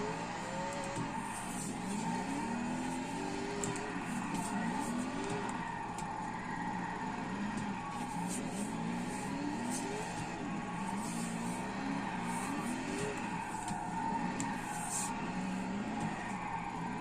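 A 1,500hp Tokyo Drift Mustang drifts in the Forza video game, its engine roaring steadily while the tires squeal in repeated rising and falling wails through a long continuous slide, loud and close.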